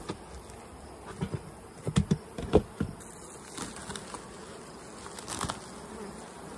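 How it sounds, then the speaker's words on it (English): Bees buzzing around their hives, a faint steady hum with several louder passes as individual insects fly close by, no talking. "This is BC bees."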